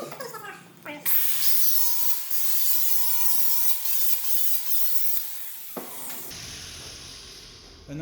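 A sanding disc grinds down the edge of a steel weld on a custom rear bumper for a Suzuki Grand Vitara (Escudo), a loud harsh abrasive whine running about five seconds, starting and stopping abruptly.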